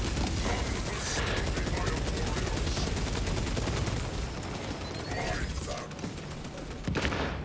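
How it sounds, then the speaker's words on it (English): Dense, continuous gunfire from enemies in the video game Space Marine 2, a steady loud fusillade of rapid shots lasting throughout with mechanical clatter mixed in. "we had two enemies shooting at me"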